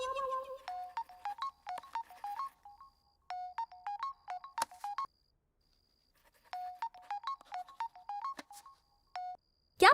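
Telephone dialing followed by ringing, a run of quick electronic tones in two bursts separated by a pause, clear and close with little else.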